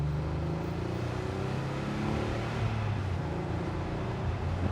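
Engine of a 34-year-old Porsche 911 Carrera 4 Cabriolet accelerating on the road, a steady low rumble heard from inside the car, with the pitch climbing gradually and staying loud and continuous throughout.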